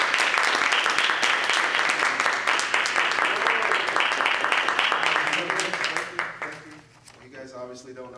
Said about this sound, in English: thanks for the clapping and everything